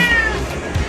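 A cat meows at a cat park, Taman Kucing Bukit Bauk in Dungun, one short, fairly loud call over a busy outdoor background.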